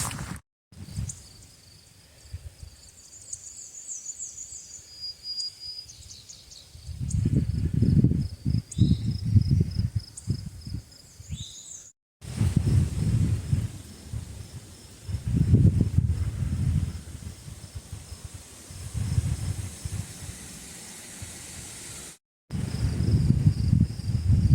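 Frogs call in a forest along the Appalachian Trail, giving repeated high, thin trills early on over quiet woodland, with low rustling and thumping movement noises coming and going.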